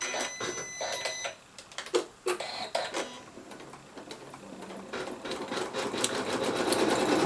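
Sewing machine stitching a seam on a Christmas stocking of fabric slightly heavier than quilting cotton, starting with uneven clicks and taps, then settling into a steadily building whir of stitching.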